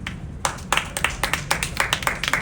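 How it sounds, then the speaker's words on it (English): A few people clapping at a Miss International 2025 press conference, close and fairly loud, with separate irregular claps over a short burst. "Another round of applause"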